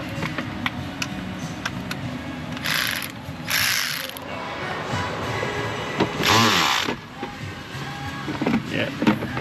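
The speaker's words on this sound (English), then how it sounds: "ignition coil bolt removal procedure begins now" Ratchet clicking while loosening the ignition coil bolt on a Subaru Impreza, with short bursts of rapid ratcheting between quieter pauses and some handling noise in a garage.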